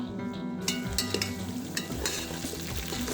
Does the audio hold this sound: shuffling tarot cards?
no